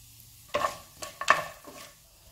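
A few sharp sizzles and crackles burst out as cinnamon, bay leaf and fennel hit hot oil for a Chettinad vegetable white kurma, followed by quick stirring sounds in a pan.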